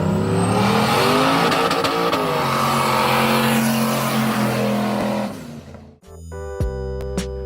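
An LS V8 car engine revs hard and loud at high, steady pitch, then drops off abruptly before a short burst of higher rev blips near the end.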